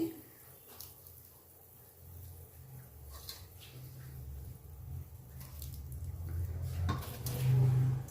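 Small fish go into a pan of simmering curry gravy, with close stirring and scraping against the pot over a soft bubbling that grows louder toward the end.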